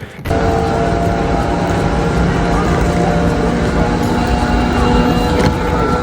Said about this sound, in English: The sound of trains in the background